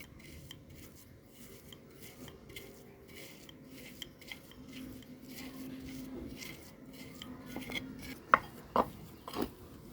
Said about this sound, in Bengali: এখন আলুটা দিয়ে দিব বাটার জন্য, মিহিন করার জন্য